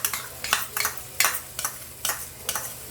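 Tomato paste is stirred into frying mutton masala curry, giving a sizzle broken by about eight sharp, rhythmic scraping stirs, close and moderately loud, with no voices.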